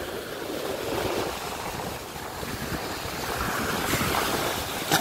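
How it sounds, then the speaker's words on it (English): Ocean waves wash and roll continuously under heavy wind buffeting the microphone, a broad rushing roar with no voices. "The waves are too big for you"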